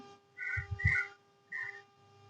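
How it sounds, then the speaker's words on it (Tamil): A pressure cooker whistles while vegetable white brinji cooks, giving three shrill hissing bursts close by, the first two with low thumps, with no talking. "குக்கர் நல்ல விசில் வந்துடுச்சு."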